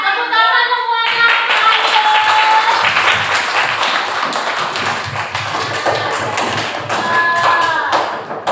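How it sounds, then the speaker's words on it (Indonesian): A classroom of pupils claps together for a classmate's correct answer, a steady dense patter of hands with a few taps and thumps, close and loud, tapering near the end. "Tepuk tangan semuanya."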